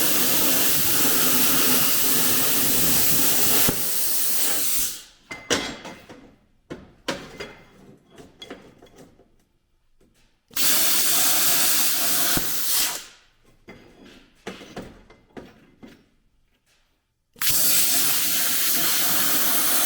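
A cutting torch burns through steel with a loud roaring hiss that cuts out and restarts in bursts, leaving crackling, spattering pops in the gaps between.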